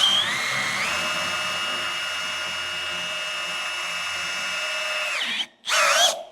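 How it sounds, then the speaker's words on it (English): Reamer driven by a power drill cutting through metal for a bolt-on Squarebody four-link coilover kit, a loud steady high whine that winds down, stops briefly, then bursts back at full speed. "watch how fast this ream is going to chew through the metal"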